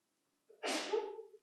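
A single sharp sneeze bursts out, brief and fairly faint, from someone at a school board meeting, with a short breath before it in an otherwise quiet room.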